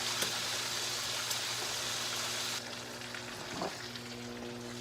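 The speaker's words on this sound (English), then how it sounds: "Oh, look at all that bacon. Oh. Oscar Mayer goodness." Oscar Mayer bacon frying in a pan for meatloaf, a steady close crackling sizzle that drops slightly halfway through, with a brief utensil scrape near the end.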